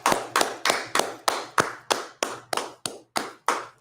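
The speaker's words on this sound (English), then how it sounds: "Let's clap it up." About a dozen sharp, evenly spaced hand claps close up at the end of a class, each a crisp slap that rings briefly before the next, in a steady rhythm with no voices.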